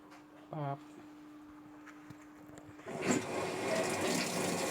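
Water begins rushing into the drum of a Sharp ES-F69 top-loading washing machine, a steady hissing gush that starts midway after a short beep and a steady hum, and continues at moderate level to the end.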